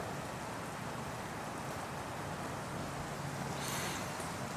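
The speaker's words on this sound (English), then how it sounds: "capture the rain while it's here." Steady nighttime rain falls outdoors in a continuous, even hiss, with a soft low rumble underneath and a brief brighter swell near the end.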